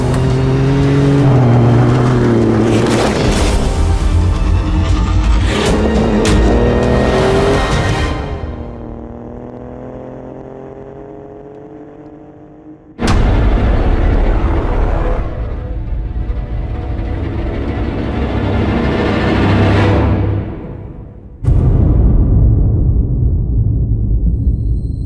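A 2017 Ford Raptor pickup with a 3.5-liter twin-turbo EcoBoost engine and 10-speed automatic revs hard in loud bursts, with rising and falling engine tones, a softer coasting stretch, then more roaring acceleration.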